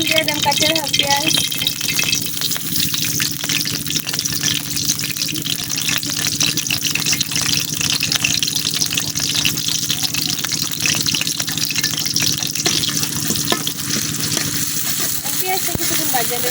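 Raw onion dropped into hot oil in a village kitchen wok, frying with a steady loud sizzle and crackle that runs throughout, with a rattling undertone.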